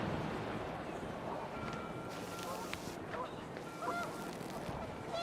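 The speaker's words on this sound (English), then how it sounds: "Oh, I hear geese." Geese honking in the game What Remains of Edith Finch, scattered calls rising over a steady windy ambience with faint voice-like sound underneath throughout.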